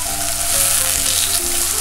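Tofu deep frying in rapeseed oil, a steady close crackling sizzle that holds evenly throughout with no talking.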